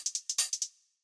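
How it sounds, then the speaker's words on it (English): A 909 hi-hat sample plays as a quick run of crisp, bright hits, about seven closely spaced ticks with one slightly longer open hit in the middle, ending in a short decaying tail. Close and dry, with no voices. "and then that 909 hi-hat"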